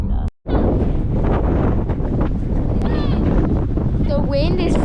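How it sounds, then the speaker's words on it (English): Strong gusting wind in Big Bend, West Texas, buffeting the microphone with loud, constant rumbling roar and a brief dropout near the start, while voices talk faintly underneath. "The wind is so strong here in Big Bend."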